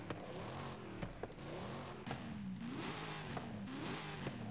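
A pony car's engine revs in Forza Horizon 5, faint and somewhat distant, rising and falling in pitch again and again with nobody talking.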